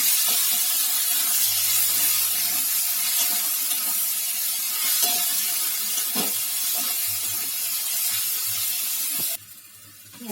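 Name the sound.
chopped onions frying in oil with cumin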